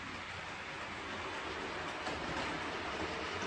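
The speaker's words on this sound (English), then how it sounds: "in just a minute we'll see that same train coming up over here" An OO gauge model train runs steadily across a home layout, a continuous soft rolling rumble with faint rail hiss, close and unbroken throughout.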